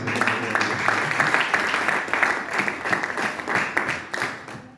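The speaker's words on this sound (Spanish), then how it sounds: "Denle un aplauso." A church congregation applauds during an evangelist's sermon, a steady wash of many hands clapping that holds fairly loud throughout, with faint voices mixed in.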